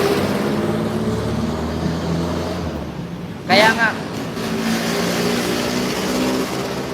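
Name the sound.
jeepney engine noise on street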